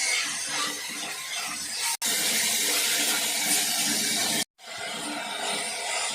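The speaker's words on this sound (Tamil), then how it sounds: "தக்காளி ஒரு 2 நிமிஷம் நல்லா வதங்கிடுங்க" Chopped tomatoes sauté in a pan for a mushroom gravy, giving off a dense, steady sizzle that is cut by two brief silent breaks.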